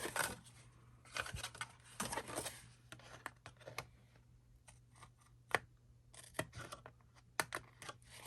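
Scissors snipping to trim the overhang on a handmade craft game piece, close and fairly quiet: irregular clicks and rustles of material being handled, with no talking.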